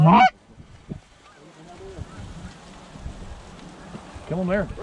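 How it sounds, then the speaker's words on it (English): Blue geese, including juveniles, honk loudly at close range during a goose hunt, with one burst at the start and another at the end, separated by a quieter stretch of wind and background noise. "Blue geese. Juvie blues."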